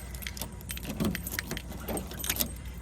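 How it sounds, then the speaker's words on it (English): Keys jangle in several quick bursts while a vehicle is unlocked outdoors, with light metallic clinks over a low background rumble. "Just unlock the vehicle here."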